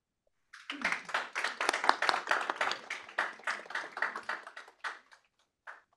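An audience at a tech competition awards event gives a lively round of applause for a presenting team, dense clapping that rises quickly, holds for several seconds, then thins out to a few scattered claps.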